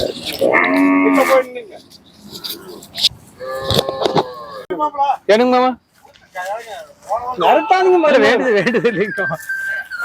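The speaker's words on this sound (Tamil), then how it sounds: "எல்லாமே காங்கேய மாடுகள் தான் இருக்குங்க" Kangeyam cattle moo repeatedly at a busy cattle fair, several long, loud, tonal calls from nearby animals overlapping one another, with people talking in the background between them.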